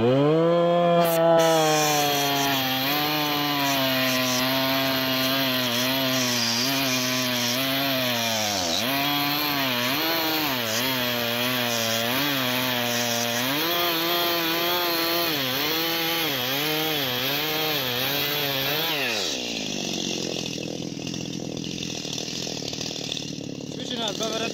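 A Stihl MS 460 chainsaw cutting wood: a loud, close two-stroke engine whine that climbs and dips repeatedly under load for about twenty seconds, then drops away to a quieter idle-like tail.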